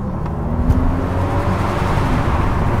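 A Bentley Continental GT engine rumbles steadily at close range, a deep continuous roar with a slight rise in revs, echoing inside a tunnel.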